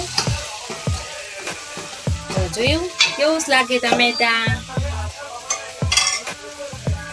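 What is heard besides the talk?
stirring tomatoes and spices with a spoon in a pan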